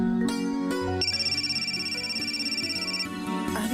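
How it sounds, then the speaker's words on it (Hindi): A telephone ringtone plays as a melodic electronic tune, with sustained tonal notes and a pulsing, steady repeated pattern, clear and alone for a few seconds. "अरे प्रिया का फोन"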